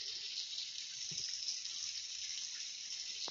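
Steady hiss of a shower running in the game Bloxburg, a continuous spray of water with no talking over it.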